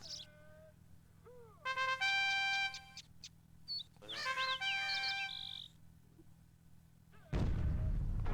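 Mortar fire in the PC strategy game Cossacks: Back To War (2002) ends with a loud, rumbling blast. Before it come bright tonal chimes and whistling game effects over a faint hum.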